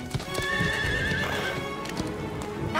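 Horse neighing and steady clip-clop of hooves in a Brazilian Portuguese dub of the animated series Horseland, with a sustained whinny over continuous close hoofbeats and no talk.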